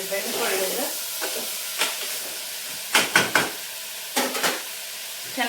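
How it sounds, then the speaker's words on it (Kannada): Capsicum frying in oil in a pan sizzles steadily while being stirred, with several sharp bursts of louder hissing and scraping spaced a second or so apart, close and clear with no talk. "ಚೆನ್ನಾಗಿದೆ ಎಣ್ಣೆಲಿ ಬೆಂದ್ಕೊಳ್ಳಿ"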